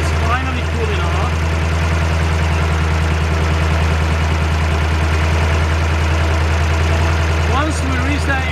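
Engine of a Mobile Inferno 2545 LP unit runs at a steady idle, a loud continuous low rumble with a faint knocking pulse, briefly overlaid by a few chirpy squeaks.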